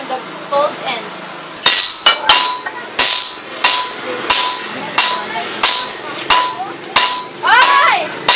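Hot metal ringing under a hammer on an anvil: after a few quiet taps, about nine loud, bright strikes fall in a steady rhythm, each one leaving a short ring.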